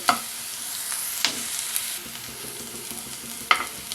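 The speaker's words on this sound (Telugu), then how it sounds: "ఈ ఉల్లిపాయలను బాగా వేయించుకుందాం" Onion pieces fry in a pan, a close continuous sizzle broken by a few sharp scraping stirs of a spatula, loud and alone without voices.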